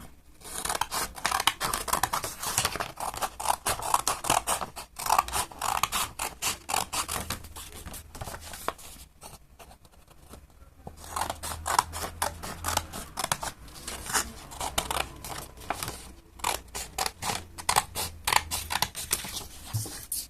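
Scissors snip through paper while cutting out pieces for a paper action figure, a close, quiet series of rapid crisp cuts with a short pause midway, no talking.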